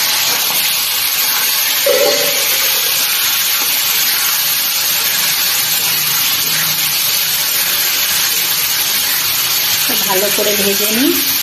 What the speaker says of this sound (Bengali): বাদামটা একটু লাল করে ভেজে দিচ্ছি।